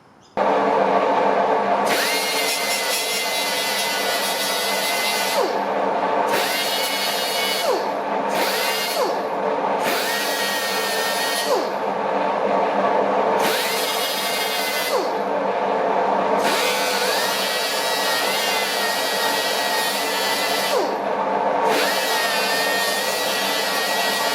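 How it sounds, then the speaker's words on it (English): A power grinder works metal during a Ford ZF Fairlane restoration, giving a loud, continuous, close whine that breaks off briefly several times before resuming, with no talk. "I don't want to grind too much off."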